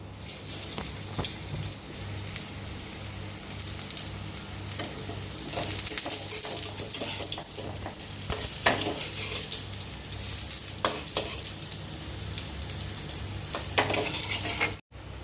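Leaf vadi slices shallow-frying in hot oil, a continuous close crackling sizzle with a few utensil taps and scrapes throughout, no talking.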